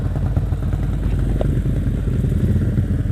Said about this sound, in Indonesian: Sebelah saya ada motor kencang nih